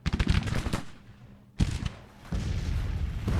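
Artillery bombardment in the Civil War strategy game Grand Tactician: a rapid rattling volley of gunfire, then a pause before sharp booming impacts followed by continuous rumbling cannon fire, with no voices.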